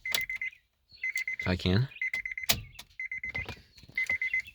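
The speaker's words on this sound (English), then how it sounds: "Close the door so it stops beeping." A 2011 Honda Accord V6 coupe's open-door warning chime beeps in a steady repeating pattern of sharp high tones, close and clear, while someone talks briefly between beeps.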